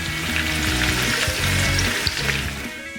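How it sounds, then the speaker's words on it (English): Onions fry on low heat in oil left over from browning goat meat for a stew, a close, steady crackling sizzle with a low bubbling undertone that eases off slightly at the end. "Begin to fry all of your onions in the exact same oil you used for your meat"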